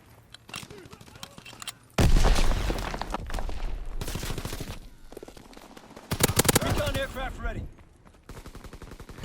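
Gunfire in the World War II shooter Call of Duty WW2: loud bursts of rapid automatic fire and shotgun blasts in short clusters, with a voice talking between the shots.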